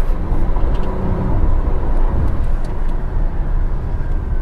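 A 2022 Tata Nexon XZ+ manual petrol car accelerates hard in second gear, its engine droning loudly and steadily with road and wind rumble throughout, heard from inside the cabin.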